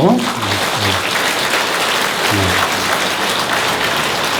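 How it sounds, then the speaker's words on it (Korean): A studio audience gives steady, dense applause at a Korean television lecture program, with someone speaking over the clapping at the start and again midway. "다시 한번 뜨거운 박수로."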